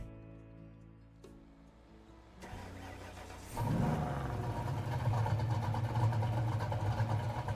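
An old Ford Mustang's engine cranks and fires up in a video game, settling into a loud, steady idle rumble after a quieter stretch of background music.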